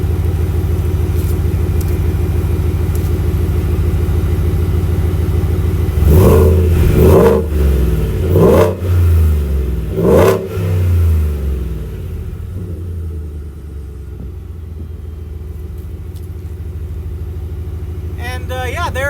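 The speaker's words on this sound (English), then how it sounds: "Now I'm going to give it a couple of revs so you can hear the sound clip" Shelby Super Snake F150 truck engine revved several times in quick succession, deep loud rumbling bursts that rise and fall close by, then settling back to a low idle with someone talking over it.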